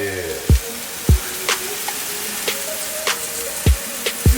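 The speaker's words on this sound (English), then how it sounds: "Putting the fries in there." Sweet potato fries sizzling in a pan over medium heat, a steady frying hiss with several sharp low thumps and clinks as the fries are dropped in and moved around, close and fairly loud.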